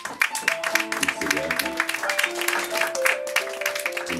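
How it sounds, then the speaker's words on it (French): Audience at a poetry evening celebrating International Women's Day clapping steadily throughout, a dense wash of applause with music playing underneath. "On les applaudit toutes, mesdames et messieurs."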